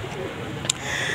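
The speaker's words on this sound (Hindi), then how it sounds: "अंदर कबूतर बोल रहे हैं" Pigeons coo softly nearby, a brief low burbling call set against a steady background hum.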